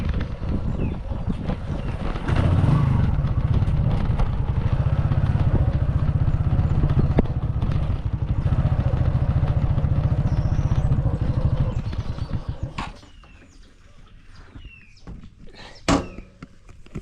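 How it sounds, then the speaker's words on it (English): A motorbike pulls up close and idles with a steady, loud engine rumble for about twelve seconds before cutting out, leaving quiet outdoor ambience and a brief clatter. "So I just pull up with my motorbike."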